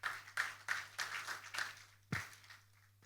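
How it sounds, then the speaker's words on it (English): An audience claps for a speaker at a conference session on finance and investment. The scattered applause comes in a few rhythmic bursts that fade over a low steady hum, with no talking heard. "Ladies and gentlemen, please a round of applause for Ms."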